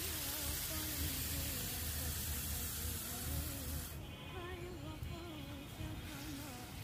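Marinated fish hitting a hot pan with curry leaves gives a steady broadband hiss that runs throughout, with a tonal hum or voice-like warble underneath and a brighter sizzle burst in the middle stretch.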